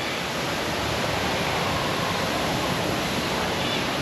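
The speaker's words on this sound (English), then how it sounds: "Look at this waterfall." A waterfall at Bird Paradise Singapore pours with a steady, dense roar, a close, unchanging hiss of falling water filling the whole stretch without pauses or talking.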